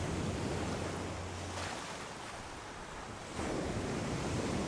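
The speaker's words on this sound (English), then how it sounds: "Sand washes across the submerged photos at the sea's edge." Sea waves wash up onto a sandy shore in a steady, broad rushing roar, easing slightly mid-way before surging louder again, with some wind buffeting.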